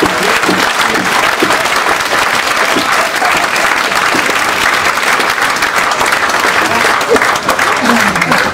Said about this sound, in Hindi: ताली पीटा कर